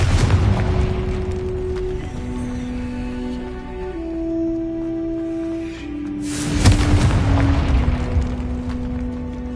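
In the video game Hogwarts Legacy, a Confringo fire spell explodes with deep rumbling booms and a burst of noise, sounding over a sustained tonal game score.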